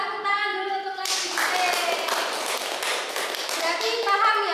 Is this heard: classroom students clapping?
yes